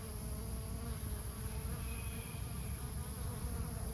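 Native bees and honeybees buzz around tree lettuce heads gone to seed in a subtropical food forest, a soft continuous hum from several insects nearby, alone without talk.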